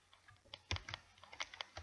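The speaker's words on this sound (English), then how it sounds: "That's the thing we're using the keyboard" ZX Spectrum keys are pressed while playing a pinball game: quiet, uneven clicks and taps that come in quick bursts, heard alone.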